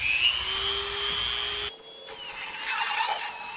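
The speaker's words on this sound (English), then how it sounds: "A Dremel with a spiral bit." Dremel rotary tool fitted with a spiral bit cutting a hole through a plastic kayak hull, a high-pitched whine that drops out briefly mid-cut and then returns with rough grinding, close up and with no talking.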